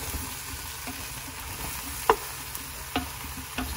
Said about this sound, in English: So I'm tossing the zucchinis